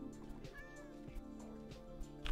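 A cat in the Minecraft video game meows a few times, short plaintive calls heard over continuous background music.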